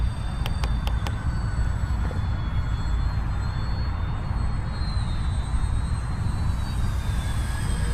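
An E-flite Spitfire Mk XIV RC model airplane with a 1.2 m span flies overhead, its steady electric motor and propeller drone continuous and fairly loud, with a few faint clicks near the start.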